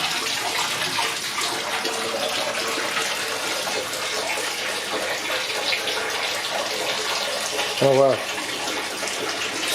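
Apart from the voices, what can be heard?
water filling up a Fluval Vincenza 260 aquarium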